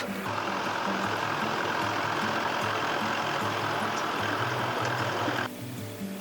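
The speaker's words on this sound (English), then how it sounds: "I'm just gonna let the tractor pass." A tractor on a nearby road drones loudly and steadily with a rhythmic engine chug for about five seconds, then drops away abruptly.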